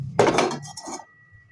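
A small metal pot is handled in a kitchen while water is about to be heated. It gives a quick burst of clattering knocks, then a faint, lingering metallic ring, close by and with no talk.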